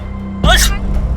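One sharp sneeze bursts out close by, a brief explosive blast against a quiet room with a faint background hum.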